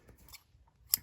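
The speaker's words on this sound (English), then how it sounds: "What I did is I trimmed this off" A single crisp snip of scissors trimming ribbon during card making, quiet and close, with a faint handling rustle before it and no voices.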